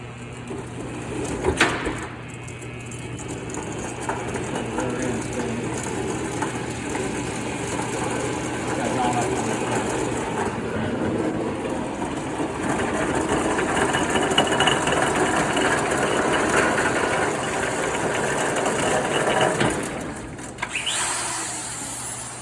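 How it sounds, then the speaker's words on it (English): An electric drill spins the gears of an Allis Chalmers WD tractor, giving a continuous whirring, grinding drone that starts after a brief clunk and runs for most of the time before stopping near the end. "I'm just going to turn my drill on here."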